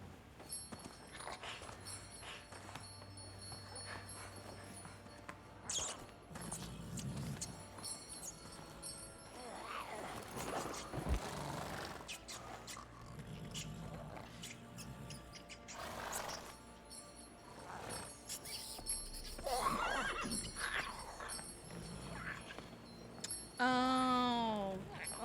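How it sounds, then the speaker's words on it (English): Roach the horse in The Witcher 3 video game walks and neighs, with clip-clop hooves and whinnies mixed among game effects and music, and a voice talking over parts of it. "This here's Roach. She'll take us to Kaer Morhen"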